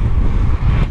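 Strong wind buffeting a microphone on the Al Qudra cycling track in Dubai, a loud, continuous low rumble across the whole short stretch.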